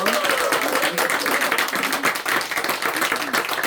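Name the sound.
church congregation applauding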